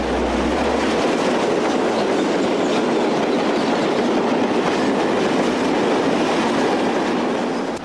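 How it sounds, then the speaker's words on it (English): A Portuguese 2551 class electric locomotive hauls a southbound freight train of hoppers near Villafranca, giving a steady, loud rumble of rolling wagons with clickety-clack wheel noise that holds throughout. "these days the 2551 class are often found employed on freight workings, including this southbound trainload of hoppers near Villafranca"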